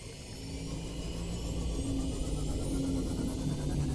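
The Seamoth submarine from the video game Subnautica gives off a faint, steady underwater engine hum and whir, continuous and low throughout, with no voices.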